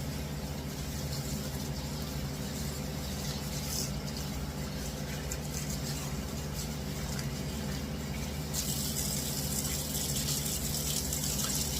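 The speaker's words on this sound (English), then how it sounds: "I'm going to wash my meat, always." Water runs steadily from a tap in a continuous gushing stream, with the splash brightening partway through as beef is rinsed beneath it.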